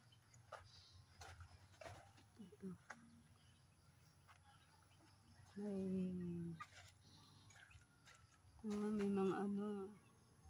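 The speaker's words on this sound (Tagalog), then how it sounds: "may mga chicken" Chickens cluck outdoors at a rural home, with two longer calls standing out above quieter scattered clucks and a low background hum, while a person speaks between the calls.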